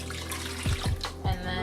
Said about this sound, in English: So 1 1/4 cups of water